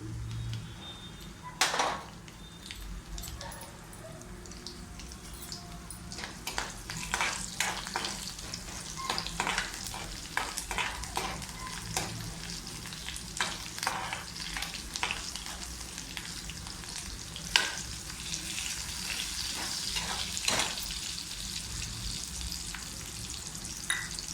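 Crushed garlic fries with cumin and asafoetida in hot oil, a steady soft sizzle with occasional stirring clicks and scrapes, close and quiet, with no talk.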